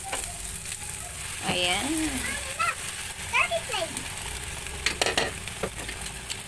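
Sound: egg mixture with spinach frying and stirred in a pan

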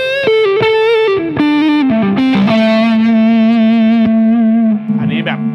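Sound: Yamaha Revstar electric guitar playing with overdrive tone

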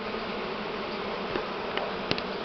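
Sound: swarm of Buckfast honey bees buzzing

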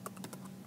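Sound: typing on a computer keyboard

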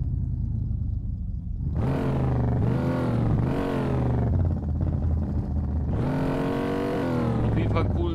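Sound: car engine driving in the video game DayZ

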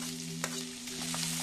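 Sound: chopped onion frying in a pan

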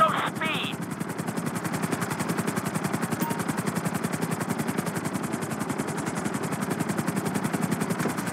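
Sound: helicopter flying in video game GTA V

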